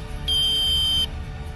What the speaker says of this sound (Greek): χτυπάει ένας συναγερμός που αφυπνίζει άμεσα τον οδηγό